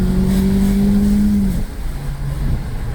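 A 2020 Ford EcoSport with a 2 L four-cylinder engine accelerates at full throttle, a loud steady droning hum from inside the cabin whose pitch drops briefly midway, as if shifting, then carries on.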